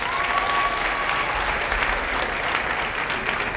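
A crowd in a school gym at a high school basketball game applauds seniors, with dense, sustained clapping that stays loud and even throughout, with no break or announcer voice over it.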